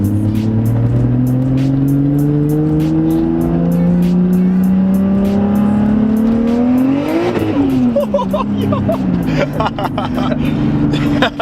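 A 600 hp Supra accelerates hard, engine note climbing steadily through the gears with a shift and brief tire chirp around the middle, loud and close from inside the car, with people talking and exclaiming over it.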